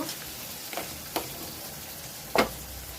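Bitter gourd and potato pieces fry in hot oil, giving a continuous steady sizzle close by, with a few brief crackling spikes popping out of the hiss.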